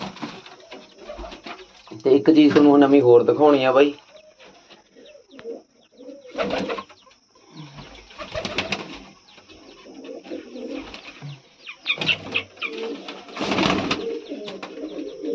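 Pigeons give low, throaty coos in short bursts with quiet gaps between, while someone speaks now and then nearby.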